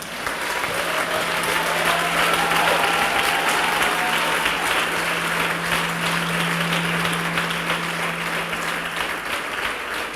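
Sustained applause from a large crowd, steady and loud throughout with dense clapping and no talking.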